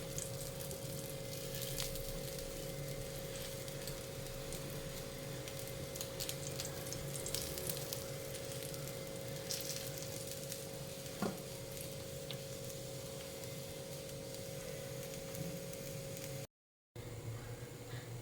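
A rice flour dosa fries in oil on a hot pan with a soft, steady sizzle throughout. The sound stays faint and constant.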